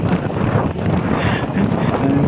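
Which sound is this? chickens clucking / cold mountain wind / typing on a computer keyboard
cold mountain wind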